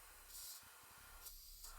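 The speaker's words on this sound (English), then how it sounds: "So the AK Interactive Satin Varnish, we're going to spray this on all the carapace" AK Interactive Satin Varnish is sprayed from an aerosol can onto miniature carapaces in short, quiet hissing bursts, with soft handling noises between the sprays.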